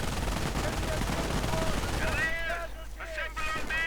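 Rapid gunfire and explosions crackle through a WWII video game battle as British troops assault an MG42 position, and a commentator's voice soon talks over the din.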